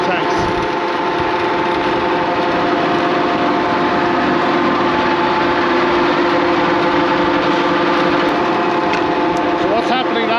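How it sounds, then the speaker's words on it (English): Tractor-driven slurry pump running on a farm, a loud, steady engine-and-pump drone with a constant hum and no breaks. "so now we're just using this tractor-driven pump"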